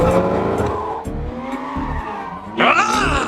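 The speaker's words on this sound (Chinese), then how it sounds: "女人一脚油门踩下去，迈凯伦像一匹猛兽在场地里驰骋" A McLaren sports car drifting around an open area in a film scene, engine roaring while tires skid and squeal in long sweeping bursts, rising sharply near the end.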